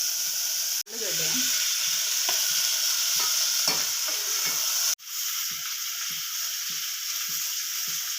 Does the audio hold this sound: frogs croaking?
no